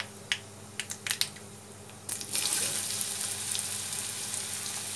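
Cut potatoes hit hot oil tempered with panch phoron and a dried red chilli, giving a few sharp clicks and spatters, then a steady bright sizzle that carries on close by with no talk.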